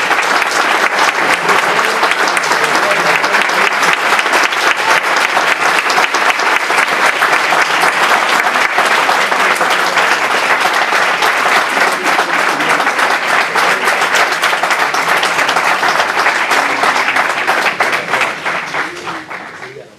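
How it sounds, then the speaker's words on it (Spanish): Sustained applause from a lecture audience honoring a 98-year-old veteran International Brigades volunteer before a history talk on the Battle of Caspe. Loud, steady clapping from a large crowd runs for about twenty seconds and tapers off at the end. "me gustaría dedicar especialmente un aplauso a José Almudévar, que con sus 98 años lo tenemos aquí"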